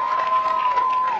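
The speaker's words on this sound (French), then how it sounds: "Applaudissez pour lui." Crowd applauding and cheering at a lavish birthday celebration in Côte d'Ivoire, a steady wash of clapping and voices with a sustained tone running through it, fairly loud for just over a second.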